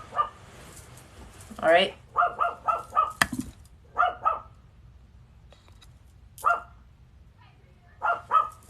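A dog barks close by in short bursts of two or three yips, pausing between rounds, while a person speaks in between.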